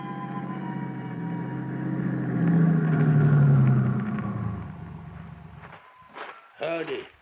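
A car engine drones and rises as it climbs a mountain road in a radio drama scene, swelling to a steady hum before fading out, followed by a short burst of speech.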